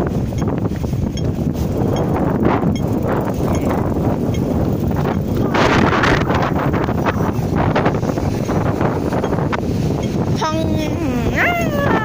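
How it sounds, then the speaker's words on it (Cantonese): Strong wind gusts outdoors in Hong Kong on the way to Lei Tung station, a steady low buffeting rumble across the whole stretch, with people talking over it. "好大風啊"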